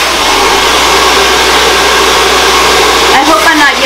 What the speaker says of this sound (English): I hope I'm not yelling through this blow dry.